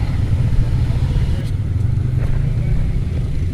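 Motorcycle being ridden and slowed to a stop, a loud close engine rumble that holds steady and eases off, with a voice speaking over it.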